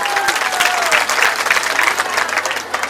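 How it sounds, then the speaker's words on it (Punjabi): A village Teeyan festival crowd in Punjab applauds for Mandeep Singh from Canada, giving dense, sustained clapping nearby with a faint murmur underneath. "ਉਹਦੇ ਲਈ ਇੱਕ ਤਾੜੀ ਮਾਰੋ"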